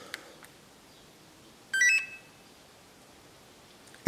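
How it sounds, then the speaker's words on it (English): An alarm panel gives a single short electronic beep when the alarm is set, clear but brief amid quiet, with a faint click at the very end. "when you press that button, you will hear a beep"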